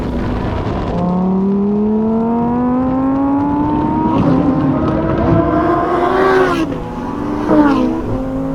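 A Lamborghini Huracán Tecnica accelerates hard on a race track, its engine note climbing steadily for several seconds before sharp gear shifts drop the pitch and it pulls again, loud and close.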